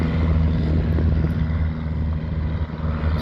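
A 1930 Stinson Detroiter propeller airplane, flying on its first flight in 40 years, drones with a steady low engine and propeller hum that holds constant throughout.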